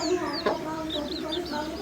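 A hen clucks while her chicks peep around her, some perched on her back. High chirps from the chicks are scattered through a steady, close-up low clucking for about two seconds.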